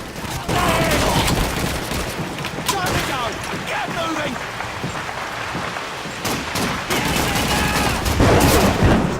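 Rapid bursts of Sten submachine gun fire in Call of Duty 2, a loud, dense stream of sharp shots and distant gunfire throughout, with voices talking over the battle.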